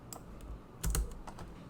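Code being typed on a computer keyboard, a quick run of close, crisp key clicks with a brief louder burst of several keystrokes near the middle, no voice.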